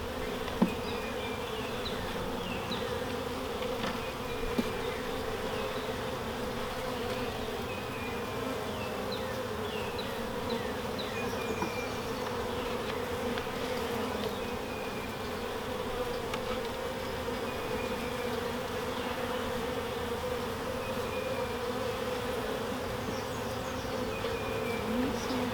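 Honeybees hum in a continuous, even drone during the first inspection of a new hive, close and steady, with occasional faint knocks of frames and no speech.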